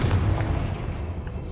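A Confringo blasting spell cast in Hogwarts Legacy gives a heavy, booming blast with a rumbling low-end tail that stays loud across the short burst and then fades into a steady background wash.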